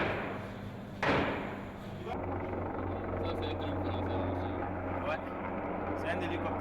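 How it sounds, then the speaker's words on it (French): A Tiger military helicopter drones steadily with a low rotor throb after a sharp thump, loud and fairly close, with talk underneath. "C'est un hélicoptère Tigre."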